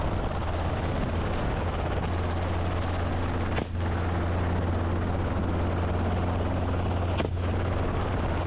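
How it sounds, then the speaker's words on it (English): A helicopter drones steadily with a loud, continuous rotor and engine roar, and a couple of sharp cracks cut through it, during a wild hog hunt in thick underbrush. "As the sound of the approaching helicopter grows louder"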